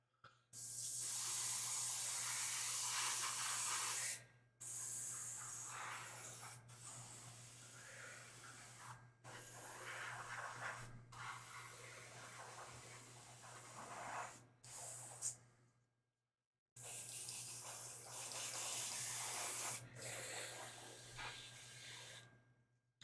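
An airbrush sprays paint onto a model X-Wing in loud, steady hissing bursts of several seconds each, broken by brief pauses, over a constant low compressor hum.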